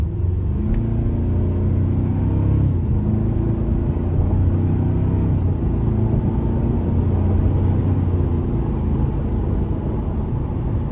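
A 2025 Toyota Tacoma TRD Off-Road with the i-Force Max powertrain accelerates in sport mode, heard from inside the cab as a steady, loud low engine rumble with rising tonal drone and no talking.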